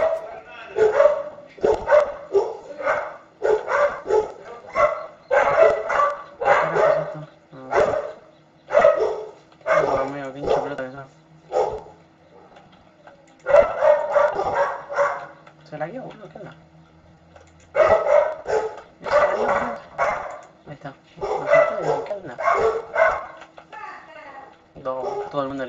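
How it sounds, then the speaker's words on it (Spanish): Dogs bark repeatedly in loud, clustered bursts with short pauses in the Free Fire video game, sounding close and alone with no talking. "Las bestias estas empezaron a ladrar."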